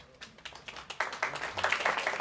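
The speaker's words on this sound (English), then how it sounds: "It's okay to clap for him." A lecture audience breaks into applause for the organizer of a raffle, scattered claps quickly building into a dense, fairly close round of clapping.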